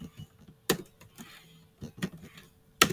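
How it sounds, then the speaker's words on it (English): Keys on a computer keyboard are tapped in a few sparse, crisp clicks with short pauses between them, close and fairly quiet, with no talking. "for importing you can just type import"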